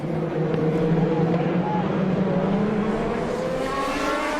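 IndyCar race cars at the 2018 Grand Prix of Indianapolis, a steady loud engine roar of several cars that holds continuously through the clip, with a race commentator talking over it.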